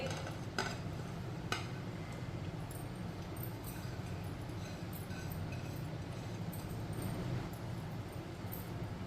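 Chopped okra, cut into long pieces for crispy bhindi, goes into a pan and is stirred, giving a steady scraping and clinking of a spoon against the pan with a faint sizzle throughout.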